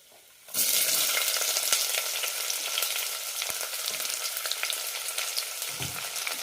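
Sliced onion and green chillies hit hot oil in a pan with cashews and raisins for kuska biryani, bursting into a loud close sizzle that settles into steady crackling with occasional stirring knocks.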